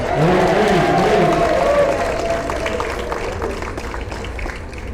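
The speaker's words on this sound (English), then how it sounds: "give yourself a round of applause." Convention audience in St. Maarten breaking into a round of applause: loud, full-room clapping mixed with cheers and voices, strongest at first and gradually thinning out.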